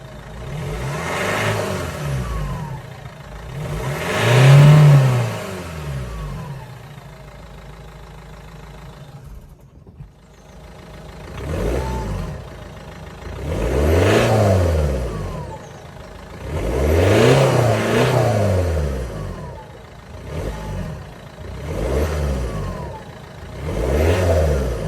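A Ford Mondeo 2.0 TDCi diesel fitted with a Hornet exhaust revs up repeatedly in close, loud bursts, each climb and fall separated by brief pauses near idle.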